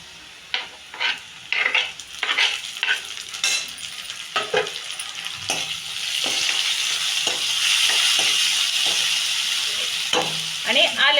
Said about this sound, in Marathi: कांदा आपला छान तळलाय बघा आता आपण टमाटर टाकून घेऊ